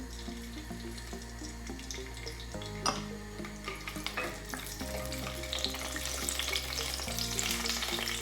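Cardamom, cinnamon and cashew nuts sizzle in hot oil in a pan while paneer butter masala is prepared, giving a steady close frying hiss with a low background hum and occasional stirring clinks.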